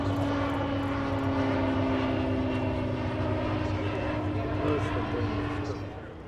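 A Pilatus PC-6 single-engine propeller aircraft at the EAA AirVenture Oshkosh 2023 airshow, a steady droning engine hum with strong tonal buzz, continuous and fairly close, easing off slightly at the end.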